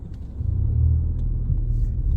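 Ford Fiesta ST with a 1.5 EcoBoost petrol engine and manual gearbox driving on the road, a steady low engine and road rumble from inside the cabin that swells slightly and holds, with no talk.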